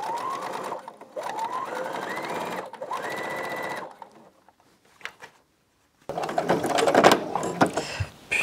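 A sewing machine stitches through thick fabric in loud, fast mechanical runs, stopping briefly between them. Then comes a near-silent pause with a faint tap, and a harsher, louder stretch of machine noise follows.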